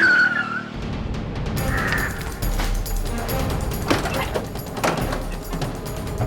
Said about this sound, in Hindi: बस रोको गाड़ी।